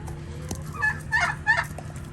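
Ducks in a poultry pen with turkeys nearby, giving a few loud, honking quacks in quick bursts over a steady low hum.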